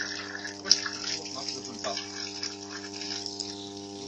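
Water pumped up from a deep borehole well near Lviv, cold and still dirty, gushes in a steady continuous flow with a constant pump hum and faint tonal whine, heard close and alone throughout.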